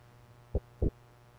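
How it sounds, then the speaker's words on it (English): Two low, thumping heartbeat pulses from the video game Paladin's Quest, a quick lub-dub pair over a steady low electronic hum, with no talk. "Oh, I hear a heartbeat."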